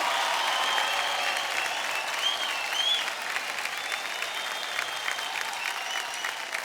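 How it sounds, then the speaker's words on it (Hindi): Studio audience at a dance reality show claps for a contestant, a dense continuous round of applause sustained evenly for several seconds with scattered cheering tones riding on top. "बस जोरदार तालियां हो जाए अभिनव के लिए"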